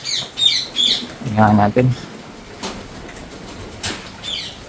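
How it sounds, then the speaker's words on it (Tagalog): Hungry pigeons in a loft squawking and cooing in scattered bursts, with a brief flutter of wings, close by, while someone speaks briefly. "Gutom na gutom yung mga ibon natin oh."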